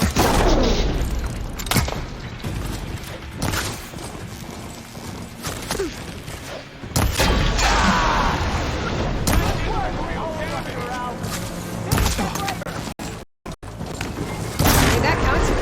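Heavy gunfire and booming blasts in Horizon Forbidden West hit in repeated loud impacts and crackling bursts over about fifteen seconds, with voices shouting in between.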